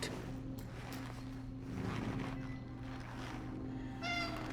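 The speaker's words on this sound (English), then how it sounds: "The louder the meow, the more urgency you're trying to communicate." A cat in the video game Cronos: The New Dawn lets out a single short meow near the end, over a steady low mechanical hum and soft ambient noise.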